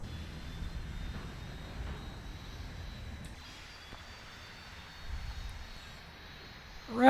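A small aircraft climbs after takeoff with its gear and flaps coming up, giving a faint, steady engine drone that rises a little near the end, with no voices.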